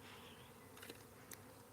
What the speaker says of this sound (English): The bees are just like flying right past me.